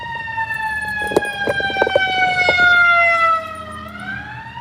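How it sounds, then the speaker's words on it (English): An ambulance siren passing by on the road, a loud wailing tone sweeping steadily downward as it moves away, with clicks and knocks nearby and the tone dropping in pitch and fading near the end. "The ambulance."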